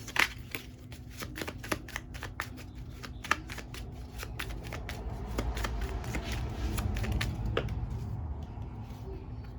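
A deck of playing cards is shuffled near at hand in a run of quick, crisp riffling snaps and flutters, irregular bursts that fill the whole stretch, with no talking.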